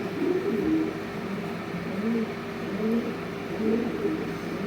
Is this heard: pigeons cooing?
yes